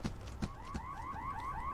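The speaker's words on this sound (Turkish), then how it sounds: "Burada da alarm çalıyor buraya yaklaşınca nedense." An alarm in the video game Hello Neighbor wails with repeated rising electronic sweeps, clear and steady, with no talking.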